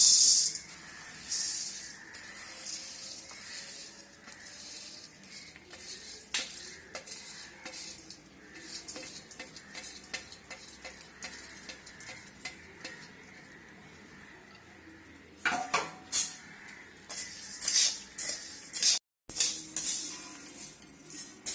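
Urad dal stirred and dry-roasted in a hot pan gives soft, intermittent scraping and faint sizzling, with sharper clusters of spoon-on-pan scrapes and rattles toward the end.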